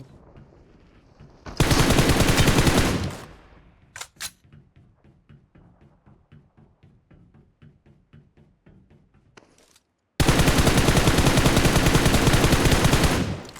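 Automatic gunfire in the mobile game PUBG Mobile: two long, loud, dense bursts with a run of quieter single shots spaced between them.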